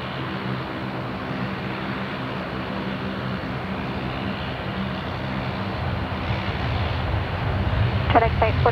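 A jet aircraft takes off from runway 03 at Perth Airport, its engine roar a steady broad rumble that swells slightly toward the end, where brief radio voices come in.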